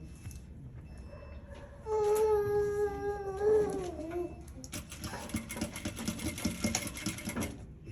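A sewing machine stitching a curved armhole seam, starting up and running in a steady close whirr for several seconds, with a tonal whine early on.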